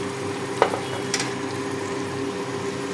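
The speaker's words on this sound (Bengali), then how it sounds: "ভালো করে আমি ভেজে নেব।" Sweet potato, pumpkin, ridge gourd and other vegetables fry in oil, giving a steady close sizzle with a couple of brief clinks of stirring.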